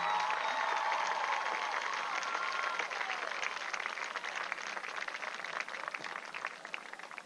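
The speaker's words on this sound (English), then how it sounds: "may we please have a round of applause for the 2020 Bishop England homecoming court." Crowd applause for the homecoming court at a high school football game, a steady wash of many hands clapping from a stadium audience, loud and sustained throughout with no talking over it.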